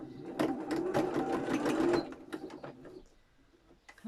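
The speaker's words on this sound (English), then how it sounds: "Come on, sew the lace." A sewing machine stitches lace onto a fabric-covered tag, running in a fast mechanical whirring burst that slows and fades into softer intermittent clicks, fairly quiet and close.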